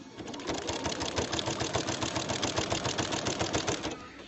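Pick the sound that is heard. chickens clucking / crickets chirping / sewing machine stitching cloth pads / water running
sewing machine stitching cloth pads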